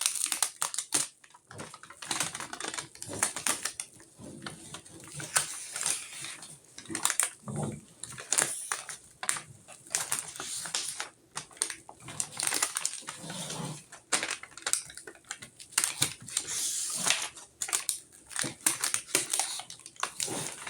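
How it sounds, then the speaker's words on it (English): Aluminum foil tape is laid down and pressed in place, a close crinkling, crackling rustle with irregular bursts and handling noises running throughout. "Put another layer of aluminum tape down. Foil tape."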